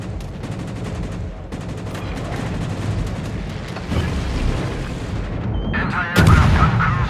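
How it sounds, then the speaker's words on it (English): Rapid anti-aircraft gunfire from a cruiser (the Jinan) in World of Warships, a dense continuous barrage of booming shots with a louder burst near the end, no talk. "Anti-aircraft gun crews are on full alert"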